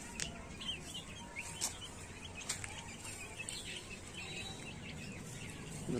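Hens cluck and squawk in short bursts over a steady outdoor background, with occasional sharper calls standing out.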